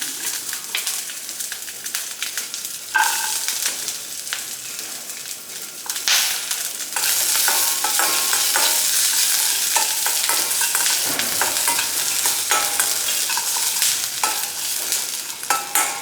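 Garlic and green chillies frying in a little oil for an amla rasam, a loud close sizzle with repeated scraping stirs and crackles running steadily throughout, no talking.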